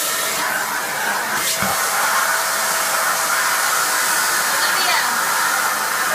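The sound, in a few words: vacuum cleaner running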